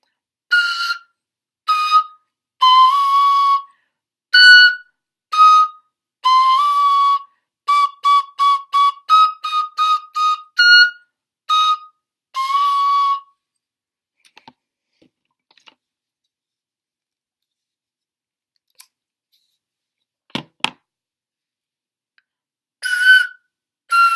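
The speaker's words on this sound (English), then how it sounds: "So I will demonstrate head joint exercises now." The head joint of a fife sounds a quick series of short, clear, high whistled notes separated by brief gaps. A long near-silent stretch with a few faint clicks follows, then two more notes at the end.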